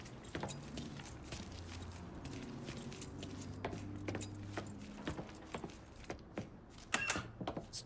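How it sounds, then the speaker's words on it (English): Keys jangling as they are picked up in the video game Mafia III, scattered metallic clinks and rattles over a quiet low hum. "Hey, man, grab those keys."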